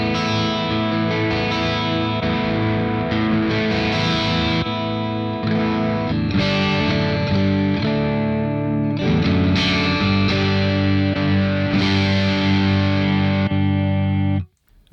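Distorted electric guitar through a high-gain amp capture on a Quad Cortex, playing chords and riffs continuously and loud, hairy and saturated, with no talking.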